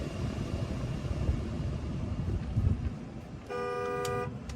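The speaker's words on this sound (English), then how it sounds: "There's the horn." A 2019 Ram 1500 Laramie pickup sounds one steady, tonal horn blast for about a second near the end, heard close and clear over a low engine and road rumble.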